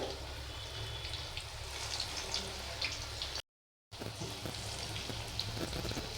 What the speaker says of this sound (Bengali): তো এগুলো ভাজা হতে থাকুক